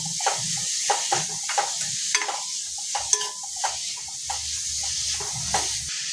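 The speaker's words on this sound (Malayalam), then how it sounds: "അപ്പൊ നമുക്ക് ഇത് നന്നായിട്ടൊന്ന് ഇളക്കി വഴറ്റിയെടുക്കാം." Two chopped green chillies sauté in a pan for paneer masala while a spoon stirs them in rhythmic scraping strokes over a continuous close sizzle.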